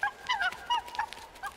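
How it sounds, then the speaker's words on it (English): A dog in a video game gives a string of short whimpering yips and whines, several quick close calls in an uneven rhythm over quiet background. "What's up, doggy?"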